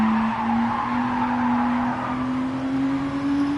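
A race car in Gran Turismo 7 has its handbrake pulled for a corner, letting out a steady tire squeal and skid over the hum of the engine, with no voices.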